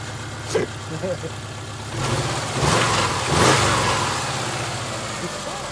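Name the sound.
2000 Subaru Outback engine running after alternator replacement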